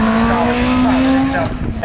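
A BMW rally car races past on a stage at Cadwell Park during a 2012 event, its loud engine holding a strained, steady note before dropping away, with a commentator's voice over it.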